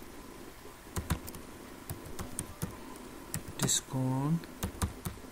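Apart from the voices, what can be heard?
typing text on a computer keyboard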